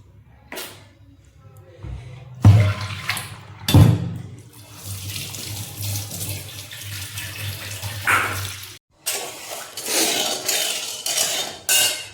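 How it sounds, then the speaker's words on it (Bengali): A pot is scrubbed and rinsed under a running tap, with water splashing steadily and several loud metallic clanks of the pot knocking against the sink, and a voice talking briefly in the background. "এবার চায়ের মাটিটা ভালো করে ধুতে হবে"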